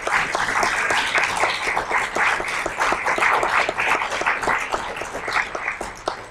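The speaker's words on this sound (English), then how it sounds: "Can you give him a great round of applause for being here?" An audience at a training session gives a steady, full round of applause that holds for the whole stretch without talk.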